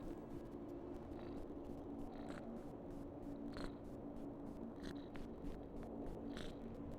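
A pet cat purring close by with a low, steady rumble that holds throughout, quiet under a faint hiss, with no talking.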